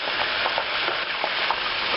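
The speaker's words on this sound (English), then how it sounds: "Alright, so as you can see, they're frying." Thin homemade potato chips sizzle in hot oil with a dense, steady crackle and frequent small pops, close and loud, with no voices.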